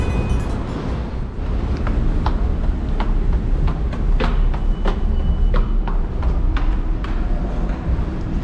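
A loud, heavy rumble of a New York City subway train moving on rails, with sharp rhythmic clacks repeating every half second or so.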